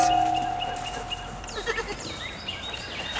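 A Nigerian dwarf and pygmy mix goat bleats in short, wavering calls close by, repeated several times over a low farmyard background hum.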